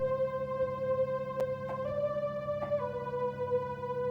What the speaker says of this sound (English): The whistle sound from Serum is also back.